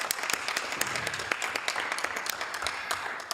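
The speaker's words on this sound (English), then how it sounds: "let's give our men and women in the Telecommunications Center a big round of applause" Applause at a city council meeting, a round of clapping for the telecommunications and dispatch staff, steady, moderately distant and somewhat thin, with a few louder claps standing out and faint talk mixed in.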